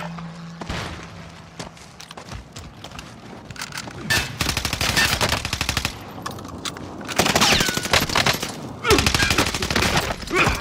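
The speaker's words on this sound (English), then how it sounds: "Precision airstrike there." A precision airstrike in Call of Duty Warzone on the Caldera map, a rapid barrage of explosive blasts and gunfire-like cracks that swell in dense, loud bursts, with a voice shouting briefly over it.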